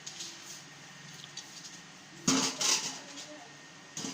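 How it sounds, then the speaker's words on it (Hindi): Washed mutton, about two kilograms, is dropped into a pressure cooker in a home kitchen, giving a couple of short clattering bumps against metal after a quiet stretch of faint handling. "ये हमने अच्छे से वॉश कर लिया है और इसको कुकर में डाल रहे हैं"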